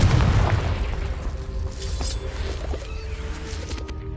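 A Confringo blasting spell explodes in the Hogwarts Legacy video game, a loud, sustained booming blast that rumbles through the whole stretch before easing slightly, with no voices over it.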